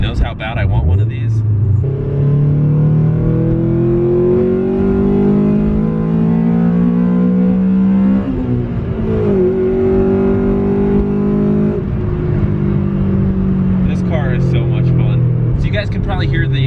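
A Honda Civic Si EM1 engine revs hard through the gears, its pitch climbing steadily and shifting sharply as VTEC engages at high rpm, loud and continuous from inside the car.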